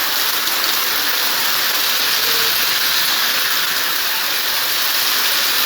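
Constant downpour of heavy rain on the MC road near Kottarakkara, a dense hissing roar holding steady throughout with no thunder standing out and no one speaking.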